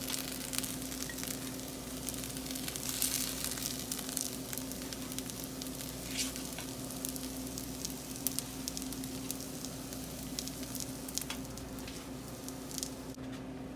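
Fried cheddar bacon keto pierogies sizzle steadily in a pan, a dense continuous crackle with scattered sharper pops, close and even throughout with no talking.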